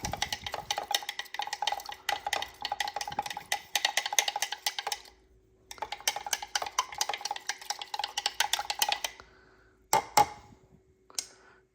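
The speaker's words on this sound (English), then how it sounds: "Stir that really good." A spoon stirs a drink in a cup, clinking rapidly and steadily against the sides in several long bursts with brief pauses, close and fairly loud.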